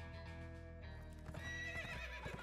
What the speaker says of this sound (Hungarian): Lóval jövünk vissza!